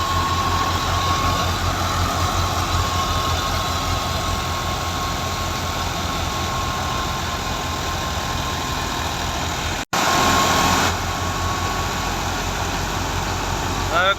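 An Al Ghazi tractor, a 2005 model, runs a wheat thresher with a steady loud droning engine and machinery rumble throughout, with a brief dropout near the end before the same drone resumes.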